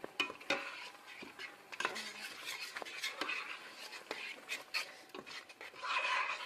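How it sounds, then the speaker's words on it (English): Tomato paste and pepper stirred in a frying pan, repeated scraping and rasping strokes with light clinks of the utensil on the pan, close but quiet, with no talk. "So I'm gonna mix the tomato paste with the pepper"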